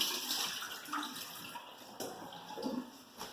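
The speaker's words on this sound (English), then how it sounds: "I'm going to go ahead and drain my potatoes now" Cooked potatoes and carrots are tipped into a colander in a kitchen sink, letting out a steady rushing pour of water with splashes and a hissy wash throughout, close and continuous.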